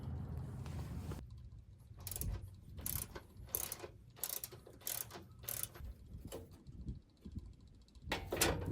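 A ratcheting wrench clicks in rapid bursts while removing a brake line mount on a car, close and fairly quiet, the short metallic ratchet runs broken by pauses and a dull mechanical rumble underneath.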